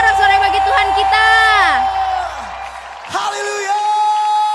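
A congregation at an Indonesian church worship service cheers and shouts, with loud whoops and bellowing voices rising and falling, briefly dropping off before surging again.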